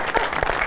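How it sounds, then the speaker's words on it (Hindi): A studio audience at a talk show claps briefly, a short burst of scattered hand claps with a few distinct strikes standing out. "बहुत सारी तालियां जी।"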